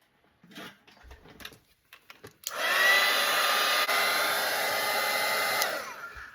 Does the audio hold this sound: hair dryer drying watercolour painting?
yes